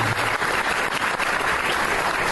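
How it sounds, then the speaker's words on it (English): A crowd at a sports hall of fame event claps steadily in a thick, continuous burst, fairly close and even throughout. "Let's give a big round of applause for these wonderful"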